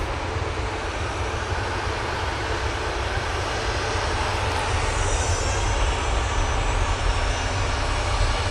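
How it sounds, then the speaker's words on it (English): Propeller aircraft arriving at Manchester Airport, a loud steady engine drone that fills the whole stretch without letting up, with no voices. "Bit of a prop arriving"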